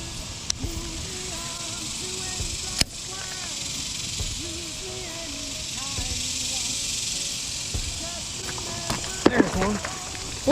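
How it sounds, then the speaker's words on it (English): Cicadas buzz all around a small urban creek in Fort Worth on a hot summer afternoon, a dense high-pitched drone that holds steady throughout, with faint voices and small knocks underneath. "you could hear it right now with these cicadas just buzzing all around me"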